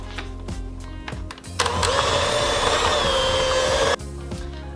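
An electric mixer whirs at high speed beating buttercream for a chocolate fudge mint cake, a steady loud motor drone from about 1.6 to 4 seconds, with quieter lower-speed mixing and clatter before and after.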